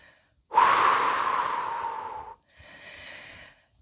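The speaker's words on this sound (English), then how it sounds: "Maybe a big releasing breath" A big releasing exhale during a yoga flow, a long breathy rush of air close to the mic lasting nearly two seconds, followed by a softer, shorter breath.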